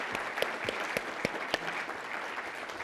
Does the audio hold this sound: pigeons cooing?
no